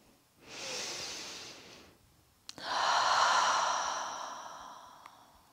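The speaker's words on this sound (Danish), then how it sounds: "Tag nogle gode vejrtrækninger her." Deep breathing while holding a yoga warrior pose: a long, airy inhale, a pause, then a longer, louder breathy exhale, close to the microphone and with no talk.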